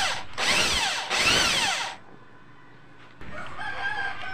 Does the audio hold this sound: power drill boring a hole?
yes